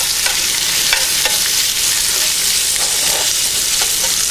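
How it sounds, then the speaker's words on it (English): Bacon sizzles and spits steadily in a pan over a camp stove, a loud continuous frying hiss with occasional scrapes and taps of a utensil stirring it through. "Stir up that bacon."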